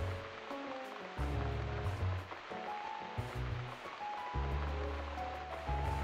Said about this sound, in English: it's actually kind of romantic in a weird way, this rain